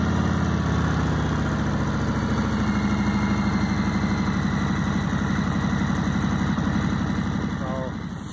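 A 2019 Harley-Davidson Road Glide Special with a Screaming Eagle exhaust idles with a steady, close, rumbling pulse that eases down slightly near the end.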